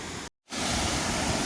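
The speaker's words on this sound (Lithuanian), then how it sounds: "Pirmas krioklys iš arčiau" A waterfall seen from close by gives a loud, dense, continuous roar of falling water. A brief dropout near the start cuts it to silence, then it returns at full strength, with no one speaking.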